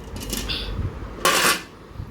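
Dishes, pots and utensils clatter and clink while a home kitchen is tidied, a couple of close bursts with a brighter clatter near the end, with no voices.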